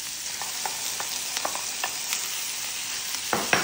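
Chicken fries in butter with ginger and garlic, a bright, steady sizzle broken by soft scraping and stirring knocks that grow louder toward the end.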